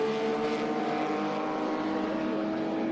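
A 1970 Porsche 914-6 GT race car driving on a track toward the corkscrew, its engine a steady droning hum heard from a distance.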